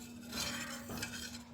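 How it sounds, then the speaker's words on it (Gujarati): A spoon stirs rose petals into a chilled sherbet, a soft continuous swirling of liquid with faint clinks against the glass, steady and close, without voices. "આ શરબતના સારા એવા લુક માટે એડ કરીશું થોડી રોઝ પેટલ્સ એટલે કે ગુલાબની પાંખડીઓ અને એકદમ સારી રીતે મિક્સ કરી લઈશું"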